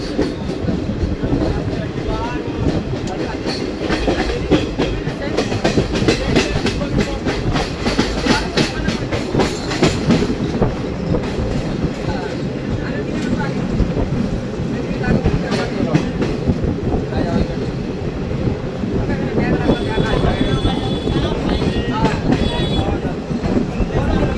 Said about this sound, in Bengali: ট্রেন এবার আস্তে আস্তে প্রবেশ করছে ফারাক্কা ব্যারেজের দিকে।